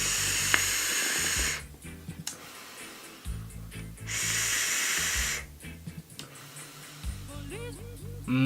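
Two long, loud airy hisses of vapour drawn through a Geek Vape Zeus X RTA with the airflow fully open at 65 watts on a 0.19 ohm coil, each followed by quieter exhales and bubbly crackles.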